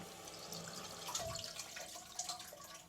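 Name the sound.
water filling toilet cistern through inlet valve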